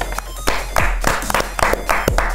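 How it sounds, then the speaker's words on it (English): Several people clap together in a studio for a gaming show, a quick ragged burst of close, loud hand claps lasting a couple of seconds. "I thought we weren't clapping anymore."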